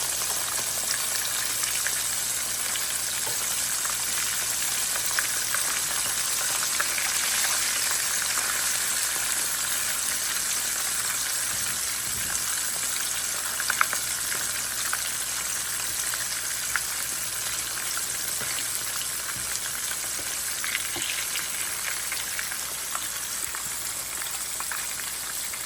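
Squirrel meat, including front shoulders, frying in a pan while being cooked after a hunt, giving a steady, dense sizzle and crackle that runs continuously and close throughout with no talking.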